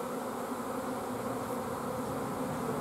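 A honeybee swarm pouring out of a hive in the rain, a dense, steady buzzing hum from many bees close by, with no breaks or other sounds.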